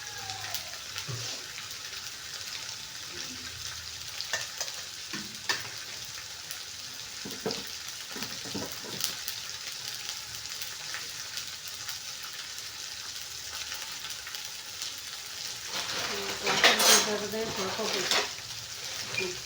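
Ginger and garlic sizzle steadily in a hot pan, a soft continuous frying hiss with occasional utensil scrapes while stirring, brightening into a louder crackle toward the end.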